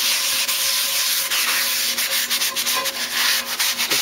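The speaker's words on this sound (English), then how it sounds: "Kosher salt will act like sandpaper and remove a lot of that." Kosher salt scrubbed across a cast iron pan gives a continuous gritty rasp, close and steady with brief uneven strokes, alone without any voices.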